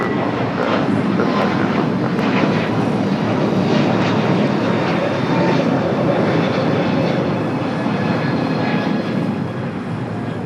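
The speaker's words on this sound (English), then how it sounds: "The A321 Neo now rolling down at 25 at right" An Airbus A321neo rolling down runway 25 right at LAX for takeoff: a loud, sustained broadband engine roar that holds steady throughout and eases slightly at the very end.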